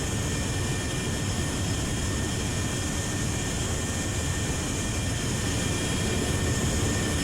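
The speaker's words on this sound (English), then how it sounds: "So, B-52." A B-52 bomber drones through the sky in the naval combat game Sea Power, a constant dense roar of jet engines holding steady and loud throughout, with no voices over it.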